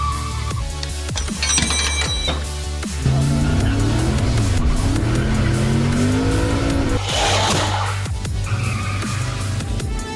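A turbo Datsun 510 station wagon with a KA24DET engine rolls along while a tire rubs and squeals against the bodywork, a steady engine drone under recurring scraping and chirping at close range.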